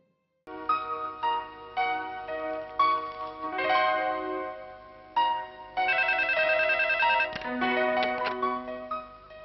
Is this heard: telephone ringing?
yes